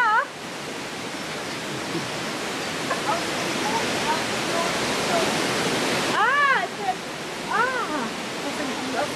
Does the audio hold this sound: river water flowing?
yes